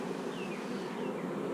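Bees buzzing in an open beehive during a frame inspection, a dense, steady hum with faint single bees whining past, quiet and without talk.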